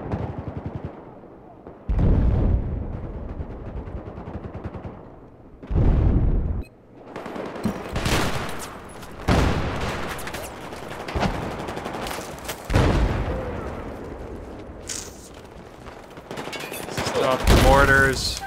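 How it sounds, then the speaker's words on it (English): Mortar and gunfire in the Battlefield 5 video game, with heavy booming bursts and rattling volleys coming in loud clusters, broken by quieter gaps, with a voice heard in between. "Stop the mortars."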